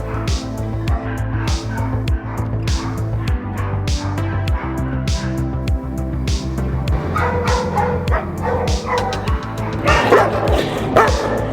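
Dogs at an animal shelter barking in a rapid, repeated chorus, with sharp yips and whimpers mixed in, close and loud, growing busier toward the end.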